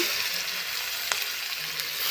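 Chopped onions with cumin and bay leaves frying in oil, a steady close sizzle with a couple of faint stirring taps, no voices.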